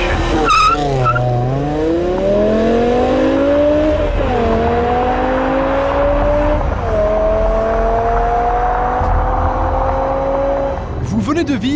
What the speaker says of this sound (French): Vous venez de vivre l'expérience du Launch Control, une fonction de départ automatisée comparable à celle qu'utilisent les pilotes de la Williams BMW